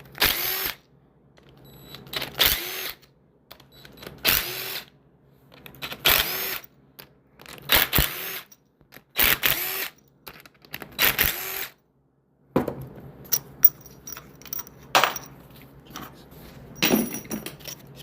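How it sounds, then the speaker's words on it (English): A power tool removes the pump bolts from a 4L60E transmission under teardown, in repeated loud bursts of whirring separated by silent gaps, with clinks of metal parts in between. "So now we're ready to pull the pump bolts out."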